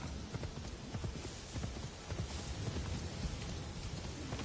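Horse hooves from the Assassin's Creed Shadows video game, a continuous soft clip-clop of a riding horse blended into a dense, hissing ambient wash, faint and steady throughout with no talk.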